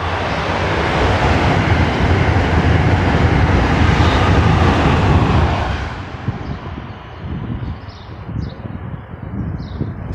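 A train rumbling past near Holland Avenue train station, a loud, broad roar that fades after about six seconds into quieter outdoor street noise.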